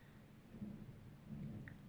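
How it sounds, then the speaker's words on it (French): A thunderstorm at home: low, rolling thunder rumbles with two swells of deeper rumbling over a steady background of rain-like noise, fairly faint and distant, with no talking. "bon, il fait orage"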